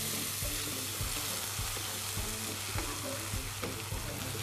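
Boiled green gram tipped into a hot pan for a Karnataka-style moong dish, with a steady frying sizzle and repeated stirring scrapes. It is close and continuous, and no one speaks.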